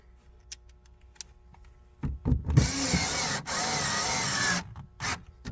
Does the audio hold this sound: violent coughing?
no